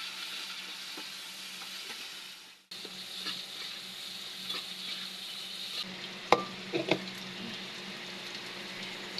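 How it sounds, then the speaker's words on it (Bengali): Onions and chilies frying in a pan make a soft, steady sizzle throughout, with a brief break and a few light clicks of a utensil near the end. "এখন ভালো করে পেঁয়াজ মরিচ ভেজে নিবে"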